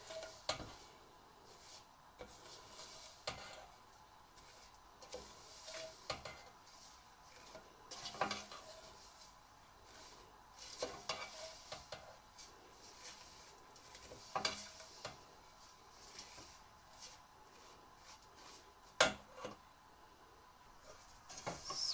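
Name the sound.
roasting vermicelli in pan, stirring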